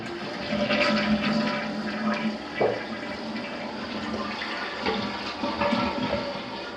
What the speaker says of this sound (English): That's draining a little better now. Everything goes down, it's supposed to go down.